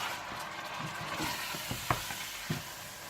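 Mutton sizzles and fries in a pan for korma with a steady hiss, broken by occasional stirring knocks and scrapes, close and moderately quiet.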